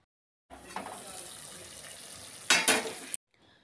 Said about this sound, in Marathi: आता ह्यानंतर कसुरी मेथी थोडी हातावर चोळून घातली व चवीनुसार मीठ टाकून 1 उकळी काढली।